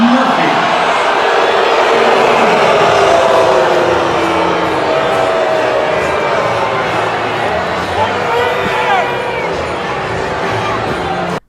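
Baseball stadium crowd roaring in loud disapproval, a dense sustained wall of voices with jeers and shouts that stays steady before cutting off abruptly.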